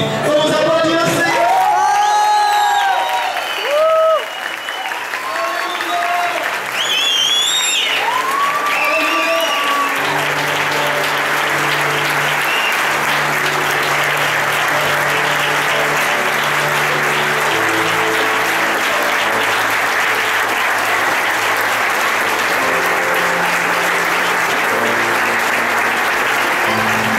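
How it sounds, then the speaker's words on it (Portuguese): A church congregation applauding together, a sustained, even wash of clapping that fills the space and continues steadily, with a voice singing over the first several seconds. "Vamos aplaudir o Senhor."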